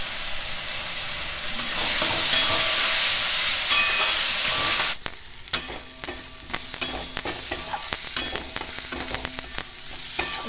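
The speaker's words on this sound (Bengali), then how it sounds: "মশলাটা আমার কষানো হয়ে গেছে।" Spices with garlic paste sauté in a pan, first as a loud, even sizzle, then as quieter crackling broken by repeated sharp scrapes of a spatula stirring.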